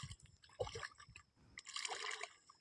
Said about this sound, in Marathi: किती जलद गतीने जायला लागलंय पाणी